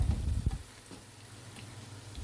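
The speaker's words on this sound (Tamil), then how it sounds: "அதனால் மீடியம் ஃப்ளேமில் வச்சு ஃப்ரை பண்ணி எடுத்துக்கோங்க." Wheat bondas deep frying in hot oil over a medium flame: a soft, steady bubbling sizzle, quiet and close, following a brief louder clatter at the start.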